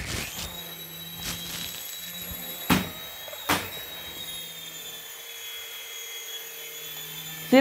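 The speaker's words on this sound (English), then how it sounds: "Again, this is how confident I am in this helicopter." A small budget beginner RC helicopter flying at full speed indoors gives a steady high-pitched whine from its motor and rotor, with a few sharp knocks as it strikes things.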